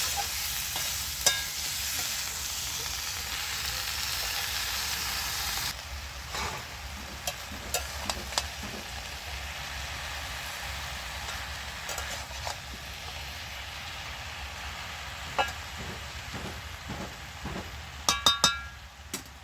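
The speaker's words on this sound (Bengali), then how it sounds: "ওই নুন আর হলুদটা ভালো করে নেড়ে চেড়ে আমি শাকটা দিয়ে দিচ্ছি" Malabar spinach greens being stirred with salt and turmeric in a pan, a steady frying sizzle with scattered utensil clinks and scrapes against the pan, close and fairly loud throughout, no talking.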